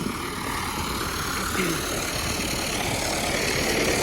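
A hot tractor engine idles steadily throughout, a continuous low rumbling drone with broadband noise and no talking.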